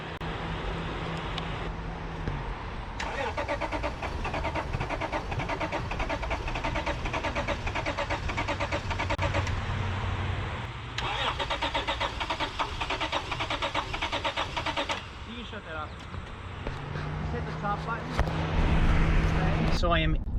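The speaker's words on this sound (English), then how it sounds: "You know what isn't dead? My Cummins Titan." Cummins diesel engine in a Nissan Titan pickup truck starting and running, a steady mechanical rumble with broadband clatter that shifts in level across the stretch, with a person talking over it.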